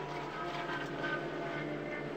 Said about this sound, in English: The Rebellion Toyota engine revving away there behind the driver's head.